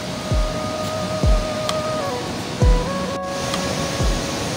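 Loud continuous rushing water of the Saraswati River near Mana village fills the scene, a steady mountain-river roar with a few deeper whooshing swells and no talking.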